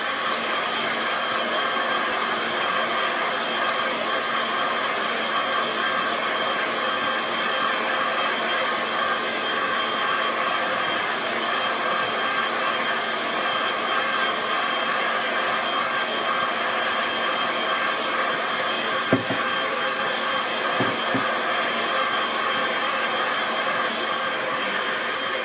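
A hair dryer runs steadily for the whole stretch, drying a watercolour painting with a constant close whooshing hum, briefly broken by a few faint knocks near the end.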